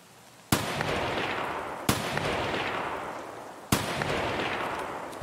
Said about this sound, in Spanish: Oye, amigo, tres tiros.